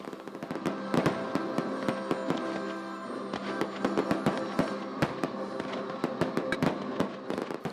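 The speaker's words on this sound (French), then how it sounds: "Un feu d'artifice extraordinaire tiré au-dessus du château qui a embrasé le ciel comme jamais." Fireworks launched over a castle, a dense continuous barrage of crackling bursts and sharp pops, loud and sustained throughout with no voices.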